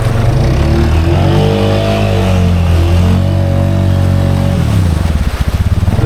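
A Honda Rubicon 500 ATV on 33-inch Aztex tires with a cheap aftermarket top end drones loudly and steadily while being ridden, its pitch rising and falling briefly as the throttle changes, with no talk.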